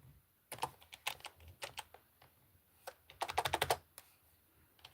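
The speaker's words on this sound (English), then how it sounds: "I'm just typing" Quiet keyboard typing on a computer during a livestream: irregular bursts of clicking keystrokes, some quick runs of several keys, heard alone without talk.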